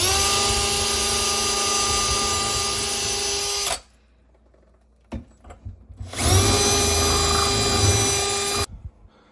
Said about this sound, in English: now you want to pre-drill pilot holes for your screws so you don't damage or crack your counter